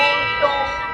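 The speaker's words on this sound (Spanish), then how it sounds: "Y luego toca la campana." A church bell rings at the Zócalo in Puebla, Mexico, its steady tone sounding under crowd noise and people talking.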